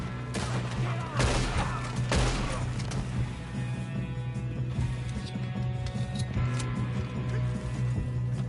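Rapid gunfire exchanges in a Red Dead Redemption 2 shootout, with a burst of shots near the start followed by scattered cracks and impacts over a steady rumbling backdrop of game music.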